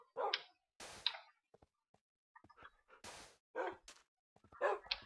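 Dogs in a survival video game bark and yip in short sharp bursts, several separate barks scattered across the clip with brief quiet gaps, fairly close and moderately loud.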